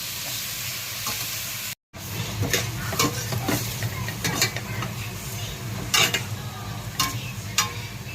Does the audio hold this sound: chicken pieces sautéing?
yes